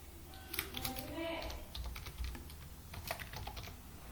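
A password is typed on a computer keyboard in quick bursts of light clicking keystrokes, close and fairly quiet.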